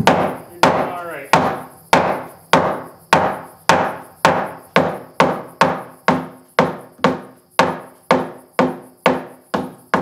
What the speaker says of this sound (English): Yes, I know I'm using a ball peen hammer.